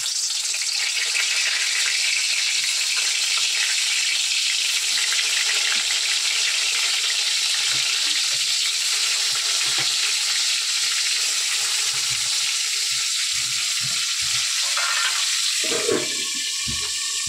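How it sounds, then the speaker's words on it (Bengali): Pointed gourd and eggplant fry in hot oil, giving a steady, loud, broadband sizzle that runs for the whole stretch, with small clatters and a brief louder disturbance near the end. "পটল বেগুন ভাজাটা বসিয়ে দেব। তো চলো, তো তেল গরম হয়ে গেছে,"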